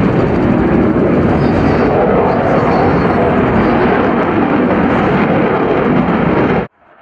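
An aerobatic display jet from the Strizhi team roars low over a tank show with T-62, T-64, T-72 and T-80 tanks. A loud, dense, sustained blast of engine noise fills nearly seven seconds, then stops abruptly.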